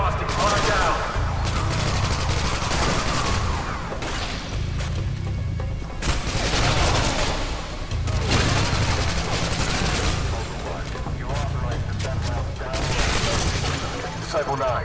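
Heavy, sustained gunfire and explosions in the video game Call of Duty Modern Warfare 2 form a dense, loud barrage that surges in waves across the whole stretch, with voices faintly mixed in.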